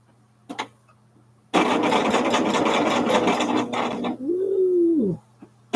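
A sewing machine stitches quilt blocks together in one loud, close, fast-rattling run of about three seconds, then slows with a rising whine and stops.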